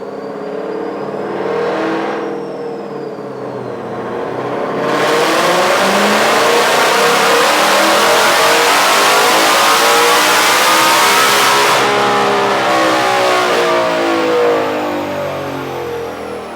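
A 2020 Ford Shelby GT500 tuned on E85 with the stock pulley, running on slick tires on a dyno, revs loudly up and down, climbing into a long sustained high-rpm roar before easing back, close and without talk.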